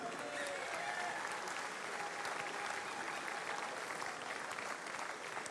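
Audience at the Bocuse d'Or 2013 award ceremony applauds steadily for several seconds, a dense, even wash of clapping from a large crowd heard at moderate distance in a big hall.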